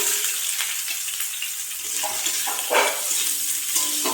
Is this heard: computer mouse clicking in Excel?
no